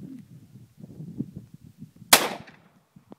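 A single sharp, loud gunshot from a magnum handgun at an outdoor range rings out close by, its blast trailing off in a short echo after low murmuring beforehand.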